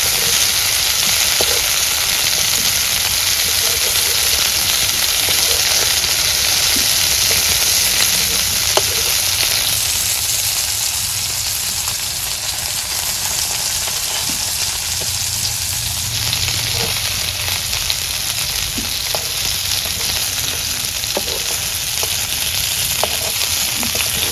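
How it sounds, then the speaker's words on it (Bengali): Pieces of a large fish fry in hot oil in a pan for a village-style eggplant curry. A loud, continuous sizzle and hiss runs throughout, broken by scattered light clicks from turning the fish, with no talking. "অনেক সুন্দর করে ভেজে নিতেছি, একটা মাছও ভাঙে না।"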